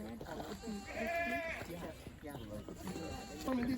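Goats bleat on a farm in a few wavering calls, moderately close, mixed with people talking nearby.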